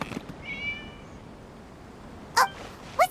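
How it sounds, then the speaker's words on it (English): Cat meowing in the video game Genshin Impact, two short, fairly clear meows near the end after a brief faint whine, heard against a quiet background. "It was just a cat."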